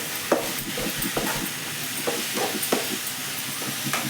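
Finely chopped tomato fries with drumstick leaves in a pan, a steady close sizzle with periodic scraping strokes of a spatula stirring.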